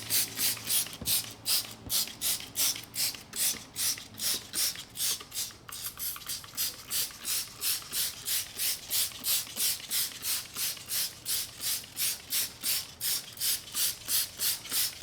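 Turtle Wax Hyper Foam wheel cleaner is sprayed onto a car wheel in a long run of rapid, even trigger pumps, each a short hissing spurt, close and clear with no speech.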